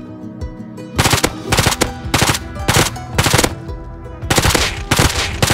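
Gunfire in the survival game Rust during a winter fight near a shack and a hill, loud close automatic bursts in repeated rapid volleys separated by short gaps.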